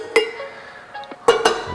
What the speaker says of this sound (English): Put that top right on top of there.